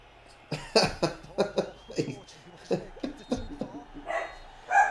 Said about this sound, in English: Guys, dogs are going.